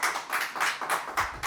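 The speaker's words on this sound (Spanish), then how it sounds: "Démosle un fuerte aplauso" Audience applause welcomes a doctor onto a stage, a short burst of many hands clapping in uneven surges, fairly close and steady with no one speaking.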